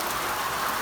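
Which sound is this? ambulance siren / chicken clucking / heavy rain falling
heavy rain falling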